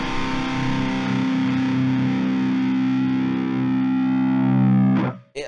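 A distorted electric guitar through an amp sim with a multiband processor's middle band triggering holds a sustained chord that swells slightly, then cuts off abruptly near the end before a short burst returns.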